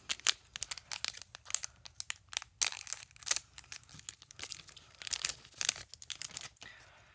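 Plastic wrapping on a Magic: The Gathering Brothers War set booster pack crinkles and tears in irregular sharp bursts, close up and fairly quiet, with no talking.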